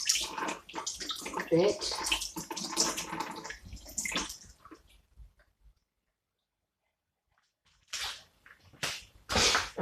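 Chopped ingredients for abacha are rinsed under running tap water, a steady splashing rush for the first few seconds that stops abruptly, followed by silence and then short bursts of water again, with a voice speaking briefly over it.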